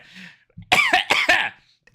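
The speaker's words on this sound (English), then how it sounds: "How about I go and clear my throat?" Close, loud throat clearing and coughing come in three or four harsh, rapid bursts after a faint vocal sound, with one more cough cut off at the end.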